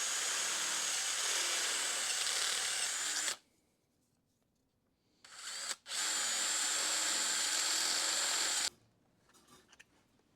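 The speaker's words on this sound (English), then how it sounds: "Grab a uni bit and ream those out real quick." A uni bit step drill reams out dimpled holes in thin metal on a mini truck lowrider build, two loud sustained whining bursts of about three seconds each, separated by a quiet pause and a brief blip.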